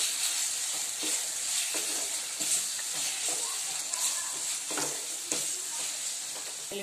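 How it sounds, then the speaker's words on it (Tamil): Chicken varuval frying in a pan gives a steady, close sizzle, broken now and then by soft scraping from stirring, with no talk. "சிக்கன் கொஞ்சம் வெந்துட்டு இருக்கு"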